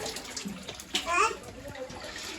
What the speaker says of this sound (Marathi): वरची बकेट भरली ना मग ते भरते.